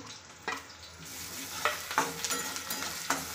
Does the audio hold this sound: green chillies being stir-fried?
yes